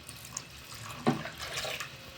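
Water poured into mashed eggplant for a brinjal bajji side dish, heard as a brief close splash and trickle into the mash, then a softer running pour that fades out.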